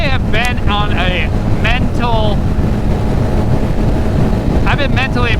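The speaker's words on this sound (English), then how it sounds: "I actually slowed down so the wind is not unbearable" Heavy, constant wind buffeting the microphone while riding a Suzuki GSX-R 750 motorcycle, a loud low roar throughout, with bursts of bird-like chirps over it.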